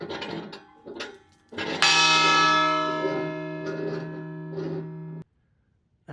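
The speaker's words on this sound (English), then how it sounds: "the bell still works" A large old immigration station bell on Angel Island, California, dating from 1910, strikes once, loud and near, its deep ringing tone sustaining for several seconds before cutting off, with faint knocks before it.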